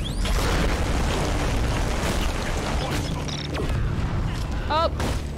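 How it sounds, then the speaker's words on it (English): A grenade blast in a video game booms amid a dense wash of game noise, with chirping effects and speech mixed throughout. "I threw a grenade."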